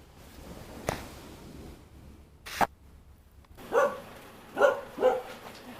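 A small dog gives a few short, soft barks and yips at close range in a quiet room, spaced irregularly, with a couple of faint clicks and thumps between them.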